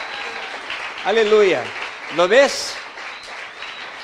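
A church congregation claps in a steady, broad patter that runs through the whole moment. A preacher's voice rises loudly over the applause twice.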